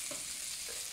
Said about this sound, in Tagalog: Prito-prito ka lang dyan hanggang sa bumuka-buka sila.